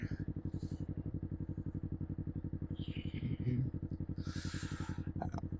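A motorcycle's engine thrums steadily in a fast pulsing rhythm while the rider downshifts, heard from the bike itself under wind noise, with a voice speaking briefly.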